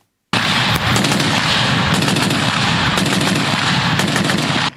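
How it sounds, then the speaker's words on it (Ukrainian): An American Browning M2 heavy machine gun firing a loud, close, sustained burst of rapid shots that starts abruptly after a moment of silence, with no talk. "Цей американський кулемет Браунінг М2 має високу точність."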